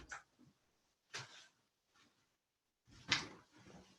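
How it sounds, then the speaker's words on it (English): A door being shut, heard as a few separate thumps and clicks spread across several seconds in an otherwise quiet indoor room. "I need to close my door"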